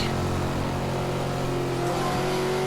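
A race car engine in Forza Horizon 2 revs loudly and steadily, its pitch shifting near the end as the throttle eases off, with no talking over it.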